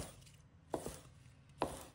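A knife cuts green onions into short pieces on a board, two distinct crisp chops about a second apart, close and clear in a quiet room.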